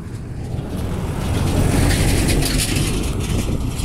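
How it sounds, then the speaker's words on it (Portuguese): A truck rolls past on a road beside a dump of household food waste, its broad engine rumble swelling to a peak midway and then holding steady, close and fairly loud, with no talking. "Vou parar aqui pra esperar esse caminhão passar."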